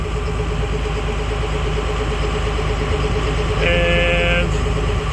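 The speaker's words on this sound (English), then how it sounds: "I got it running. It's a little nippy outside, so it's still running at higher idle." A Ford LCF C-550 ramp truck's engine holds a steady high idle on a chilly day, a continuous even rumble that brightens with a brief higher-pitched whine midway before settling back, with no talking.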